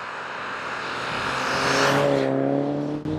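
Saab 9000 Aero driving fast, its engine note rising steadily as it accelerates and climbs through the revs, loud and close, alone without talk.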